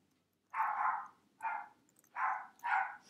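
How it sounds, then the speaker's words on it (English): Dogs in the video game Shelter 2 barking in four separate bursts of yips, each lasting about half a second, fairly close and clear against a quiet background with no talking. "My dogs are barking."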